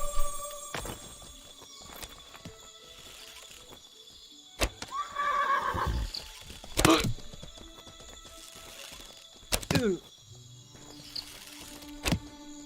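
A horse whinnies in the online fantasy combat game Mortal Online 2, a loud rising and falling neigh near the middle of the stretch, amid other game effects and sharp impact sounds.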